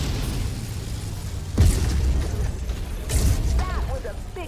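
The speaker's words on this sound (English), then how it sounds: "That was a big explosion" Big explosion in a mech combat shooter game, a low booming burst that rises and rolls out, followed by a second swell, under continuous mechanical rumble and game effects.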